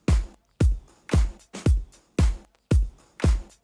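Hip-hop style beat with punchy kick and snare hits and a simple hi-hat pattern layered in, a steady loop of about eight strong hits with no talking.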